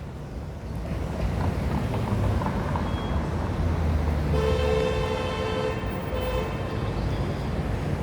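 Cars pass through a busy traffic intersection with a continuous roar of engines and tyres, and a sustained horn blast sounds partway through and holds for several seconds, fairly close and loud.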